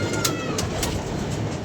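Domestic pigeons in a keeper's loft coo softly and steadily, with light rustling and a few sharp flutter-like bursts over a constant close background hiss.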